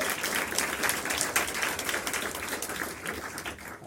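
Sizable audience applause after a Tiny Desk concert, a steady dense wash of clapping that holds for several seconds and then slowly thins, with no voices over it.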